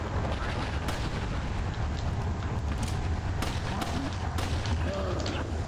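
Rapid gunfire in the video game Resident Evil 4, shooting at the parasite on El Gigante, rolls on as a dense, continuous barrage with sharp repeated cracks over a heavy low rumble throughout.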